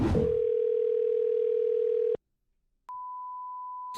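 A telephone dial tone hums steadily for about two seconds while a call is placed to a coin shop, then cuts to silence before a higher, thinner tone starts and holds to the end.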